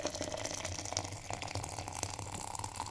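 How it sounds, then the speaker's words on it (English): Hot water from a jug pours steadily into a container for basil tea, a continuous close splashing gush with a low rumble, no talking. "So I've just poured the jug."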